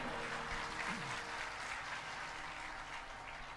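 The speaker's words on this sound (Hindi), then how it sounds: "जो ताली बजाए हैं" An audience applauds at a Hindu religious discourse on the Ram katha, a broad continuous clapping that fills the space throughout, with a faint voice briefly audible beneath it.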